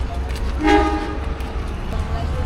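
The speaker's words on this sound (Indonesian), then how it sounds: "Nah kereta mau langsung balik lagi ke Rangkas Bitung." A passenger train gives one short horn toot as it prepares to head straight back to Rangkasbitung. The brief, fairly loud blast rises over a steady low rumble and busy station noise.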